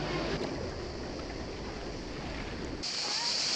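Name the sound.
boat docking at small pier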